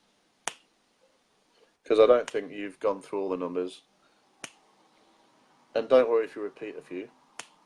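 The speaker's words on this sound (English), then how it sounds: "Just keep changing these numbers at random every time I snap my fingers." Sharp, distinct finger snaps crack out one at a time in a quiet room, three of them spaced several seconds apart, between stretches of a man's speech.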